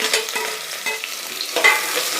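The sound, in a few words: onions sautéing in a pan for tomato bath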